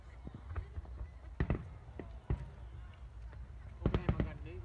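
Fireworks burst at a summer display in Korea, several sharp cracks and booms spaced irregularly, with a cluster of rapid bangs near the end, heard at moderate distance under crowd murmur and people chatting.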